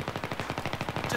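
Rapid automatic gunfire from a shooter video game on the Canals map, a steady burst of evenly spaced shots lasting about a second, close and fairly loud, with no talking.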